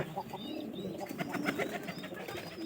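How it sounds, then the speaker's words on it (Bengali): Pigeons kept in a home loft coo softly in short repeated phrases, close by, with faint chirps and a steady low background hum and no talk. "পায়রার ডাক দিও, পায়রিটা কই একই রকম।"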